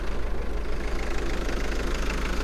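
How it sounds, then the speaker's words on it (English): A 1991 Mitsubishi Delica Star Wagon's 4D56 turbo diesel engine, mounted under the seats, idles steadily with a close, even diesel clatter and low rumble, no voices. "Engine on it runs really nicely."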